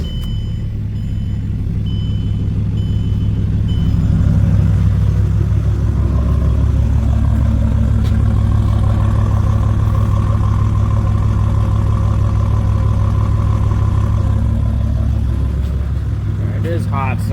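A hot Mercedes diesel drift car engine running steadily, a loud low rumble with a varying intake note throughout, and a voice speaking faintly beneath it.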